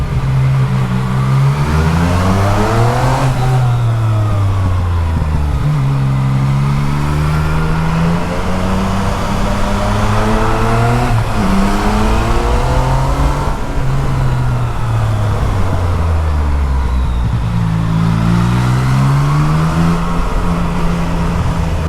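Yamaha MT09 SP motorcycle riding through tunnels built into the corners of a twisty mountain pass, its engine loud and close, revving up and down repeatedly with rising and falling pitch and a reverberant tone.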